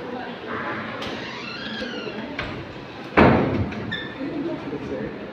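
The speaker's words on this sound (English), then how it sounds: "Close the door, please" A hotel room door closes with a sharp thud partway through, set against talk and room noise during a room service delivery of breakfast.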